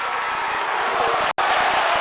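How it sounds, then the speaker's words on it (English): Virtual arena crowd in the WWE 2K25 wrestling game roaring and cheering in a dense, continuous wash during a near-finish in a TNA Against All Odds match, steady and loud with a brief dropout midway. "The crowd is going absolutely crazy right now."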